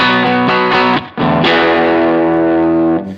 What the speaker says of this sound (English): a Fender being driven pretty hard by a distortion pedal on the left